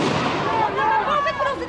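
Sharp popping bursts crackle amid a noisy, chaotic crowd at a Yellow Vest protest clash in France, like firecrackers going off nearby for a brief moment.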